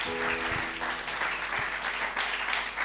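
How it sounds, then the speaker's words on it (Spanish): A church congregation gives a strong, dense round of applause in worship, a steady wash of clapping with faint voices underneath. "Dale ese aplauso fuerte al Señor."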